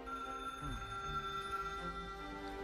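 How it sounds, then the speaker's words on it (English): A telephone rings in a 1990 film scene, a steady electronic ring sustained for a few seconds under a musical score, with no talking. "And then the telephone rang."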